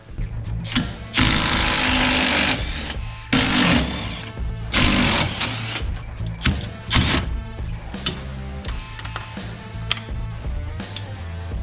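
Power tool, likely an impact wrench, rattles in loud bursts while removing U-bolts from the rear leaf spring of a 1968 Mustang, with short pauses and clanking between runs.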